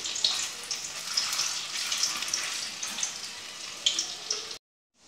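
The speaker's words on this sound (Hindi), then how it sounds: "अब मैं इसको तल ले रही हूँ डीपली" Chicken kofta deep-frying in hot oil gives a steady, close crackling sizzle that runs evenly and then cuts off abruptly near the end.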